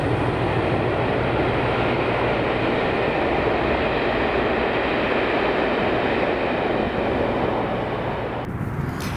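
A train rumbles past steadily and loudly just east of Polmont, Scotland, with wind adding broadband noise throughout, before the sound drops away at the very end.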